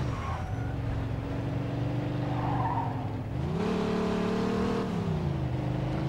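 A fast car races down a highway in the video game Mafia II, its engine droning steadily and close, climbing in pitch midway as it accelerates, then easing back, with no talking.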